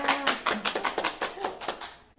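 A congregation at a Sunday church service claps along in a quick, steady rhythm of hand claps, close and lively, with faint voices underneath.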